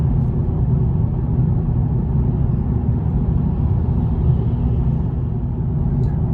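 An Infiniti Q70L V8 cruises on a highway at the speed limit, giving off a steady, loud low rumble of engine and road noise that holds evenly throughout with no speech.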